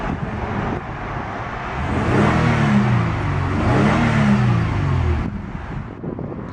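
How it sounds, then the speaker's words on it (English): A 1999 Toyota Sienna XLE engine runs smoothly, a low steady hum that swells slightly in the middle as if revved gently, then settles back to a quiet idle, with no talking. "Very smooth motor."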